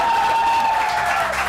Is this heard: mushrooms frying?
no